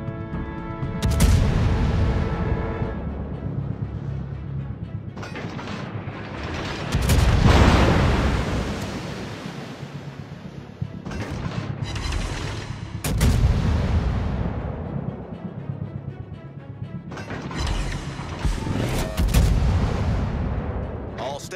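Naval gunboat cannons firing in an open-water combat video game, heavy booming shots arriving in irregular bursts about every five seconds, loud and close, with a voice speaking over parts of the barrage.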